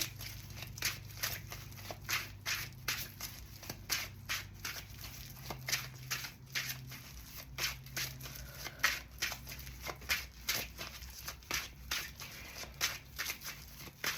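Tarot cards being shuffled by hand during a reading, a close, steady run of soft riffling bursts repeating every half second or so, with a low hum underneath and no talking.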